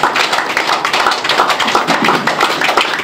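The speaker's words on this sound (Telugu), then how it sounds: "ఈ ప్రాణ ప్రతిష్టలో పాల్గొన్న మనం కూడా ఒకసారి గట్టిగా చప్పట్లు కొట్టుకుందాం" An audience at a pyramid consecration ceremony claps hard and fast, a dense, loud, steady patter of many hands with no pause.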